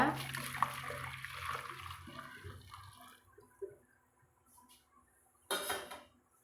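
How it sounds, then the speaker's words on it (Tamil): Hot water pours and splashes into a pressure cooker for about three seconds, then trickles off into quieter clinks and a brief hiss of liquid near the end. "சுடு தண்ணி காய வச்சு வச்சுக்கிறேங்க நான் அதை இதில் ஊற்றிக்கிறேங்க"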